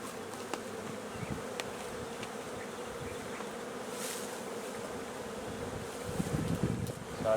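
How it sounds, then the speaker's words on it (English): Bees buzzing around a newly installed hive outdoors, a steady low insect drone throughout, with a few close passes, light wind rumbling on the microphone and faint handling noise near the end. "so hopefully she can start doing her thing and get those bees back in that new hive."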